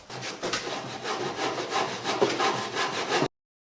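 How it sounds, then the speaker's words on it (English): A handsaw finishes a cut in lumber for a budget DIY garden bench, a quick, even series of rasping back-and-forth strokes heard close up with no talking, ending abruptly. "We'll clean that up with a handsaw."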